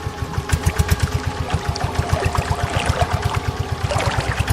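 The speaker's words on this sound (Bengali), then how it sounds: "নদীর ধার থেকে একটা বোটের আওয়াজ আসছে" A motor boat engine chugging on a river in a Sundarbans cartoon, a fast steady putter of even pulses with water splashing, heard alone and fairly close.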